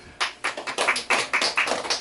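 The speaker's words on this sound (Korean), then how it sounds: "박수." Congregation clapping hands during a church sermon: a run of sharp, fairly fast claps in an uneven rhythm, many hands together, close and moderately loud with no talking.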